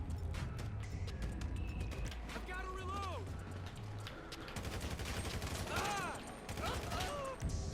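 Heavy-weapon gunfire in a GTA video game, with dense bursts of rapid shots and mechanical clatter layered with other game effects throughout.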